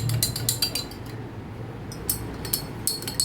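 A spoon stirs mango mint sherbet in a glass, giving light clinks and taps against the glass that come in quick bursts, close and fairly quiet, with short pauses between.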